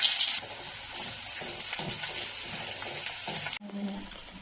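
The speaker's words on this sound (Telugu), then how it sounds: "ఫస్ట్ గానే ఉల్లిపాయలు వేసుకున్నాం." Onions frying in a pan for a tamarind-leaf rice dish, a soft continuous sizzle with light scraping and stirring, fairly quiet, cut short by a brief change near the end.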